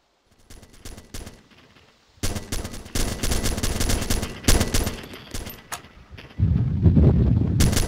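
Sustained machine gun fire in ArmA 2, rapid bursts crackling in clusters, starting sparse and distant then swelling into loud, dense automatic volleys with a heavier rumbling stretch at the end.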